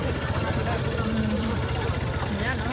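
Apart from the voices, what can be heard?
traffic full of motorcycles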